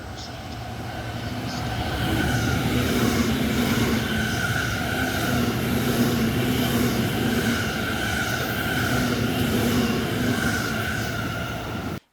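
An express train on the Chuo Main Line rushes through Shiozu station, a loud continuous rumble with wheel and motor drone that builds in the first two seconds, holds steady for about ten seconds, then cuts off.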